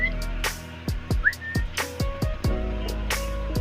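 Short repeated whistles from a person calling an African lovebird, several brief chirpy notes in an irregular rhythm over a steady low hum, with no talk.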